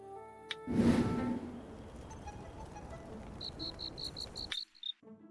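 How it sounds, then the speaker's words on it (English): Crickets chirp in The Scroll Of Taiwu game, a series of short, evenly spaced trills that follows a burst of rustling noise and stands fairly clear at the end. "Crickets."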